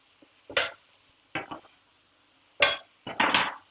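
Garlic dropped into a hot pan over medium heat for a chickpea curry, four short sizzling bursts with stirring scrapes between, close and crisp, no voices.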